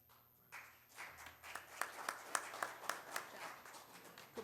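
Audience at a city commission meeting in Ocoee breaking into applause, a moderate patter of clapping in a large room that builds after a quiet start and holds steady with some sharper individual claps.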